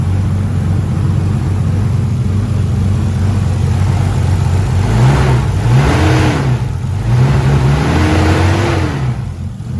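A Nissan R34 Skyline converted to turbo and running E85 idles loud and close, with a steady low rumble and a few short throttle blips that rise and fall in pitch.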